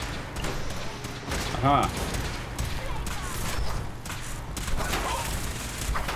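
Fallout 4 gunfire crackles and booms faintly in the background under a busy mix of game sounds, with a brief spoken exclamation.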